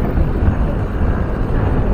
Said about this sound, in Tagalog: Lakas ang hangin